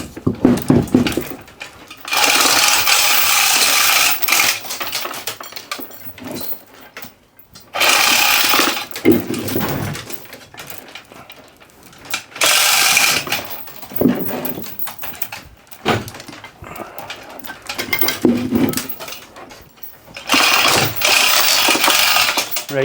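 A Vevor chain block lowers a load, and its ratchet and gears rattle in loud, steady bursts of whirring clatter that stop and start over and over, with brief quiet gaps between pulls.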